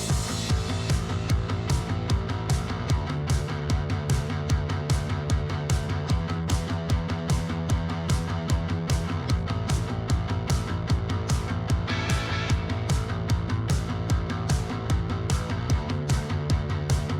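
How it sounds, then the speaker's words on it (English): A big fan runs to dry drywall mud in a house renovation, giving a continuous droning hum with a steady rhythmic pulsing throughout, close and unchanging. "We got our big fan going to try and help dry out all the drywall mud."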